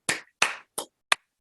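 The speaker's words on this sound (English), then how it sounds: "Barbara, can we all just give her a round of applause," Four separate, well-spaced claps ring out for Barbara at an annual meeting, sharp and fairly close, each one dying away before the next, with no crowd joining in.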